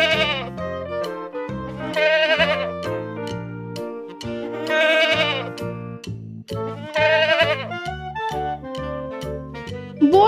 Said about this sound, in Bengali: ছয়ে ছাগল ছানা লাফিয়ে চলে।